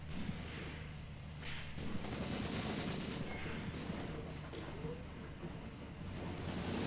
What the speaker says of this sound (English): Keep the machine gun fire up.